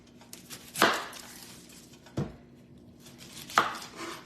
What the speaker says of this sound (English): all I'm gonna do is cut the tops and the bottoms off of the onion